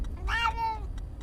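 A cat gives a single clear meow, fairly close and loud, with a rising and falling tone that stands alone against a quiet indoor background.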